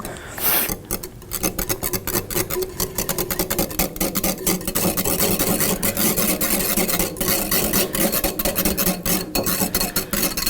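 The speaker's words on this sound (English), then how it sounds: "You want to use a whisk." A whisk scrapes and taps rapidly and continuously against a bowl while mixing tuna fish taco sauce, a dense, busy, close rhythm that runs for about ten seconds without talk.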